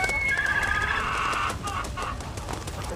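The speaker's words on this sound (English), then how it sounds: "seagulls are really annoying" Seagull calls in a video game, a shrill squawk near the start followed by a few softer bird cries over steady background game noise, with no talk.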